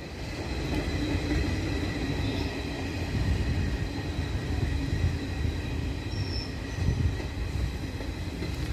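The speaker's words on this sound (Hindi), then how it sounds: "ये वाला ट्रेन अपना लाडोवाल रेलवे स्टेशन को स्किप कर रही है।" Amritsar Gorakhpur Express running through Ladhowal railway station without stopping, a loud continuous rumble of railcars and wheels on track with faint wheel squeal, steady throughout the whole stretch.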